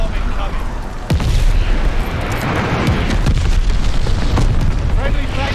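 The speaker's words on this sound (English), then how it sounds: "Enemy's got glide bombing" Glide bombing explosions in the WWII shooter Call of Duty: Vanguard during a team deathmatch: several loud booming blasts and bursts over continuous battle noise, with a heavy impact around the first second.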